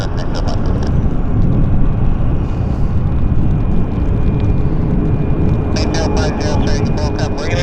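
An airplane lands on wet runway 08 at Vancouver airport, producing a loud, sustained roaring rumble with wind buffeting, while a voice talks over it at the start and end.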